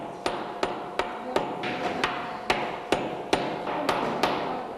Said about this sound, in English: let me see you hammer